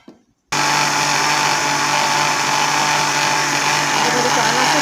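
An electric blender starts abruptly and runs at a steady, loud, high-pitched whir, mixing cake batter with cheese, after a brief quiet clatter at the start.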